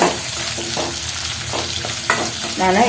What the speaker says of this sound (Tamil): இப்போ பாருங்கள், வெங்காயம் நல்லா வதங்கிடுச்சு.